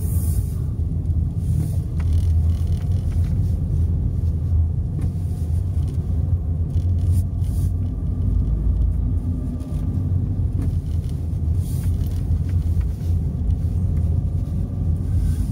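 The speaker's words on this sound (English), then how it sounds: "Bus navigates these streets" A bus engine rumbles steadily and loudly while the bus crawls through the narrow streets of Positano on the Amalfi Coast, with a constant low drone and no talk.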